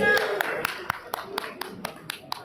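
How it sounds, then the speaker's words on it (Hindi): At a 75th birthday celebration, an audience claps for Sanjay Garg in a steady, evenly spaced rhythm of sharp, moderately loud claps, with a voice faintly heard underneath. "मैं उनसे निवेदन करूंगा श्री संजय गर्ग जी के लिए एक जोरदार तालियां"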